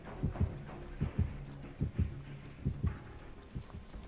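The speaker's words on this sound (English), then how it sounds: "His heartbeat's going off." Killer's heartbeat warning in the Dead by Daylight video game: low, muffled double thumps repeat at a steady, slightly quick pace, with a faint hum underneath.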